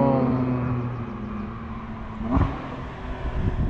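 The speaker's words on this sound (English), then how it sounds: "Oh, yeah, that Porsche. Oh, it's a GT3." A Porsche GT3 sports car passes by outdoors on a sunny morning near a reservoir, its engine note rising and swelling briefly at mid-clip over steady background road and engine hum.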